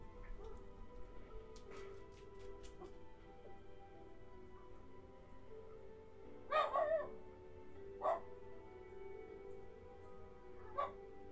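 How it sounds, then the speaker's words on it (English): A dog barks indoors in a room in a few short, sharp bursts, with a quiet hum in the background and long gaps between barks. "Yeah, the dog is loud."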